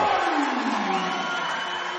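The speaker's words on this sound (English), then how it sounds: "Now the crowd's getting into it" A boys' high school basketball crowd at a Liberty versus BHS game roars and whoops after a made three-pointer, a loud, sustained wall of cheering with rising shouts that holds steady throughout.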